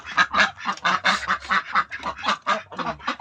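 A group of Pekin ducks quacks and honks in a rapid, continuous chorus of raspy calls, loud and close, with no talking.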